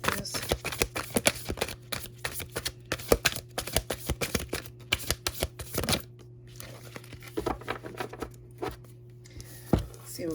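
Tarot cards shuffled and drawn by hand during a reading, giving repeated crisp riffling and flicking clicks close to the microphone, with a steady low hum underneath and occasional quiet speech.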